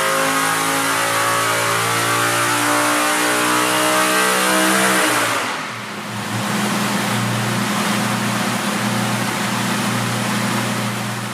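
Race engine on a Superflow dyno in a dyno cell, revving loudly and steadily up in pitch before briefly dropping off and settling into a sustained high roar, close and alone.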